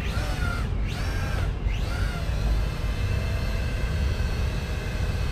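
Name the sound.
Z908 Pro mini drone taking off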